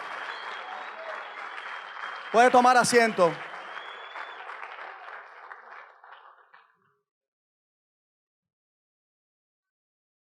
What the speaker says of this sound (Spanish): Si ese aplauso es para el Señor, démoselo como tiene que ser. Un aplauso digno.